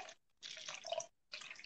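Water is poured into a cup during a church sermon, with two rushing pours separated by a short pause and a second pour starting near the end, close and clear with no talking.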